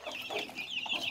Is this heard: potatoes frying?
no